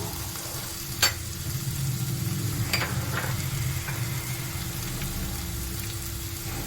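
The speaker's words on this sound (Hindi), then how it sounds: "अदरक और लहसुन का पेस्ट जो है मेरा फ्राई हो गया है" Ginger garlic paste frying in a pan for a mushroom curry, with a soft steady sizzle under a low hum, a few sharp clinks of a utensil against the pan scattered through.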